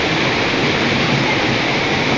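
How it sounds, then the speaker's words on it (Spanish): Cascada Huexocoapan, a waterfall, sends out a loud, constant roar of falling water heard close by, an unbroken rushing wash with no pauses and no voices. "De abajo se ha de ver muy bien esta cascada."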